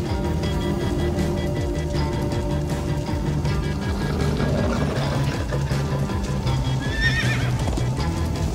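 Horses neigh and gallop in the Minecraft Story Mode episode 4 game: hooves drum steadily throughout with a game score underneath, and a shrill whinny rises near the end.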